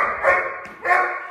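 A 12-month-old Doberman in protection training gives two loud, close barks about half a second apart.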